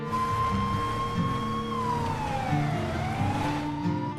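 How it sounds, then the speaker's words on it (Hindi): Police siren in the video game Free Fire, a steady wailing tone that rises and falls in slow sweeps, loud and continuous over a low rumbling background, with no talk. "ये तो पुलिस के सायरन की आवाज थी।"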